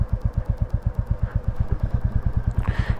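A Royal Enfield Classic 350 single-cylinder motorcycle engine idles close by with a steady, even thump-thump pulse for the whole stretch, and a light hiss rises near the end.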